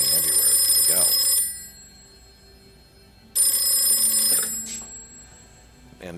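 A telephone ringing in The Matrix, two loud, shrill bursts of bell ringing with a quiet gap between them and a soft low hum underneath.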